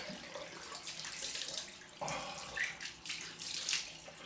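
Cold tap water runs into a bathroom sink for a rinse after a wet shave, a steady splashing rush with small shifts as hands move through the stream, no voices.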